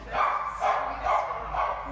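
A riled-up shelter dog barks four times at close range, each bark loud and evenly spaced in a steady rhythm, with no speech over it.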